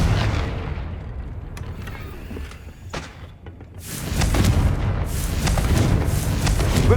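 Confringo blasting spell going off in Hogwarts Legacy: a heavy explosive boom rolls into a long, loud rumbling roar with sharp crackling bursts, continuous low thunder filling the whole stretch.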